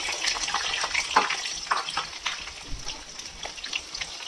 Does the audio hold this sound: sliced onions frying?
yes